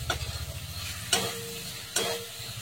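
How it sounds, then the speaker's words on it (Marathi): Egg bhurji masala being sautéed in a pan over low gas: a low bubbling sizzle under three distinct scraping stirs of a spatula, spaced about a second apart. "मसाल्यासोबत परतून घ्यायचा आहे। गॅस कमी ठेवायचा आहे।"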